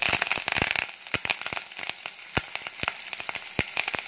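Grated ginger, green chillies and curry leaves frying in hot oil for wheat rava pongal, a close, lively crackle with dense sharp pops spattering over a steady sizzle and no voices.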